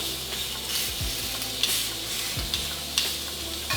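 Beef seared in a hot pan while being pressed down for maximum contact, giving a steady loud sizzle with a few sharper crackles and spits, close up with no talking.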